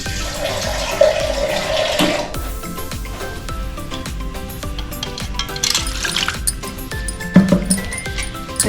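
Water is poured into a pot of Andhra-style Godavari fish curry, a rushing splash for about two seconds followed by quieter bubbling and clinking in the pot.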